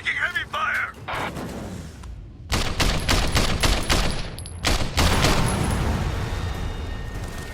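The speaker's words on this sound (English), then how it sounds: "We're taking heavy fire." Heavy gunfire rattles in the video game Sleeping Dogs: dense bursts of automatic shots after a brief lull, loud and continuous with explosive cracks, while a voice talks over part of it.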